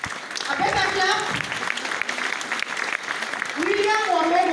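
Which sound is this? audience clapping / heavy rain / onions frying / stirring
audience clapping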